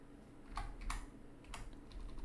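A computer keyboard clicks as code is typed, a few soft, close keystrokes spaced over two seconds against a quiet room hum.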